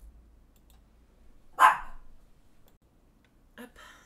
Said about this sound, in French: C'est ma chienne qui s'est mise à aboyer très très fort.